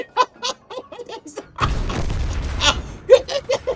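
A single loud, booming tank gun shot bursts out in a Wargaming tank video game, cutting in after excited talk and laughter, then rumbling on under a voice that keeps talking and laughing.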